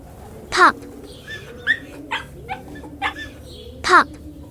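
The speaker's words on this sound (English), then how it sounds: "Pup," A puppy whimpers and yips in a series of short, high cries spaced irregularly, with two louder yelps standing out among softer whines.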